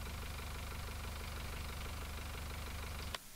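A tractor engine idles in the farming video game Farming Simulator, a steady low rumbling drone that runs evenly and then cuts off abruptly near the end.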